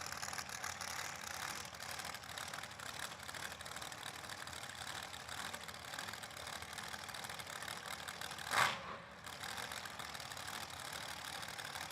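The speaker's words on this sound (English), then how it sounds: "Couple of blower dragsters on the racetrack right now." Blower dragster engines idle at a drag strip with a steady, dense rumbling drone heard from a distance, and a brief louder surge partway through.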